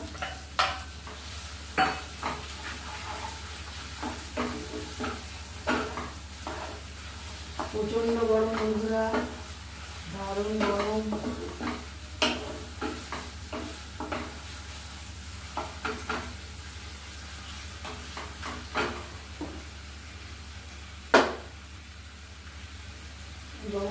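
Chicken paste fried in softened spice masala for pakora, a steady low sizzle under repeated scraping stirs of a spoon against the pan, close and fairly loud, with a voice briefly speaking over it.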